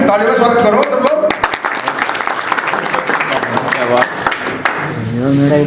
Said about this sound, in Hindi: भाई तालियों का स्वागत करो सब लोग